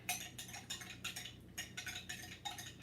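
A utensil stirs cranberry-flavored mead in a vessel, producing a rhythmic series of faint metallic clinks and scrapes, close and alone, with no talking.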